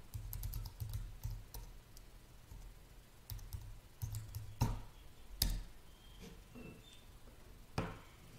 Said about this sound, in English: we'll type it in.